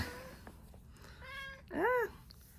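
A house cat meows twice indoors, a shorter call followed by a louder drawn-out meow, close by over quiet room hiss with no talk.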